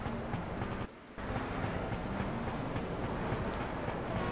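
Train rumbling past in the video game Shenmue, a loud, dense, continuous roar with rhythmic clatter that briefly drops out near the start before carrying on steadily, with no talking.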